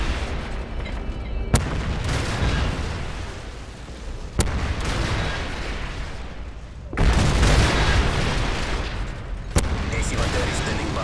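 Predator missile strikes in the Modern Warfare 3 video game, loud broadband blasts landing about every few seconds over a continuous roar of battle noise, with in-game voice chatter mixed in.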